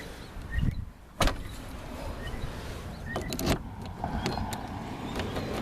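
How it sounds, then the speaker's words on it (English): A Volvo 7/9-series car's driver's door slams shut with a sharp thud, followed by a second thump and a few softer mechanical clicks from the latch and lock, close by and otherwise quiet. "So when you close the driver's door,"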